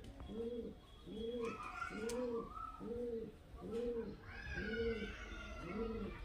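Pigeons coo in a steady repeating series of soft, rounded calls, about seven evenly spaced coos, close by with faint background chirps.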